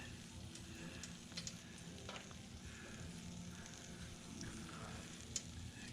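Food frying in hot oil while someone dips it by hand, a steady soft sizzle and crackle running throughout at low level, with a few faint clicks and no voices.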